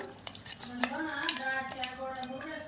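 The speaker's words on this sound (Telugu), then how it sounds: "ఇప్పుడు మనం స్పూన్ తీసుకుని కలపాలి అనమాట మొత్తం" A spoon stirring Ugadi pachadi in a small vessel, with light clinks and scrapes against the sides under a voice talking over the mixing.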